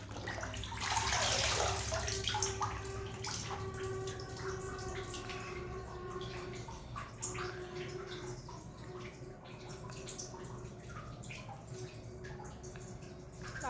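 Artificial flowers being rinsed in a sink, with steady running and splashing water throughout, loudest near the start and then settling into a continuous wash with small drips and gurgles.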